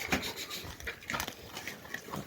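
Dogs scuffle and snarl in a burst of harsh, overlapping growls and yelps, close by, with agitated barking-like noises throughout.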